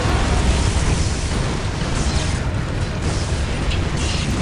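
Orbital bombardment explosions in the strategy game Dawn of War, a dense, continuous roar of blasts and rumbling booms at steady, loud level with no pauses.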